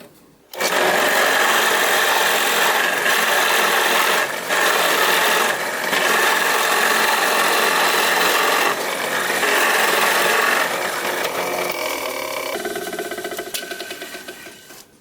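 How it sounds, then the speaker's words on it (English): A power drill bores a hole through a wooden block for a DIY tenon-cutting jig, giving a loud, steady grinding whine that runs for about thirteen seconds before winding down, with no talking. "and then we're going to drill a hole."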